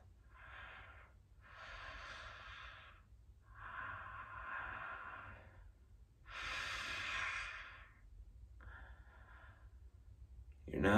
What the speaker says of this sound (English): Big full breath in through your mouth.